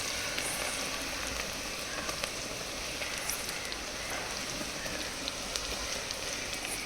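Onion pakoda fritters deep-frying in hot oil give off a steady, dense sizzle with fine crackles and pops throughout, fairly quiet and continuous with no talking.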